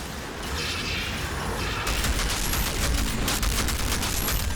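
Two deployed turrets fire continuously in Outriders, a dense, loud rattling fusillade of rapid shots with mechanical clatter over a low combat rumble.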